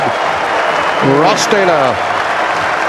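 Cricket crowd at a one-day international in Napier, New Zealand, applauding a local batsman's half century, with sustained clapping and cheering filling the ground while a commentator speaks over it.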